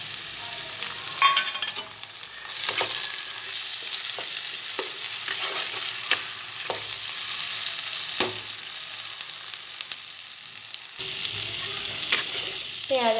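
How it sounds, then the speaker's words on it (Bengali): Onion, ginger and garlic paste fry in a pan for chicken curry, a continuous close sizzle punctuated by irregular scrapes and knocks of a stirring spoon, with no voices. "পেঁয়াজ আদা রসুনটা লাল লাল করে ভাজা হয়ে গেছে"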